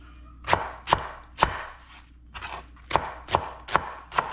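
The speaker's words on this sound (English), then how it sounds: "Next we're going to do our onion." A knife chops an onion on a cutting board in crisp, sharp strokes, about eight in a loose steady rhythm with a short pause midway, close and clear with no talking.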